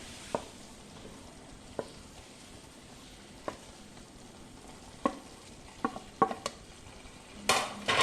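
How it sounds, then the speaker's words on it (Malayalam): Quiet frying sizzle underneath scattered scrapes and taps of a utensil stirring fried paneer in a pan, with a louder clatter near the end. "ഇത് നല്ലപോലെ ഒന്ന് ഇളക്കി എല്ലാം കൂടി യോജിപ്പിക്കണം"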